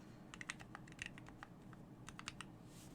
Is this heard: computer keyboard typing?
yes